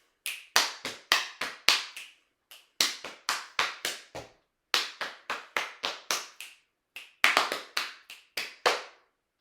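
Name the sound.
body percussion snapping clapping patting stomping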